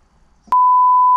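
A single loud, steady censor beep cuts in abruptly after a moment of faint background sound and holds continuously to the end.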